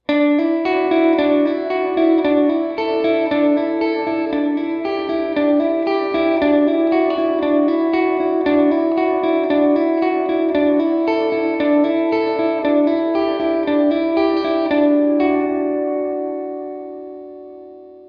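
An electric guitar plays a dark, mellow clean tone with chorus and reverb, ringing chords and notes that fade out at the end.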